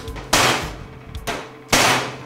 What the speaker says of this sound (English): Bounce back into place with a hammer.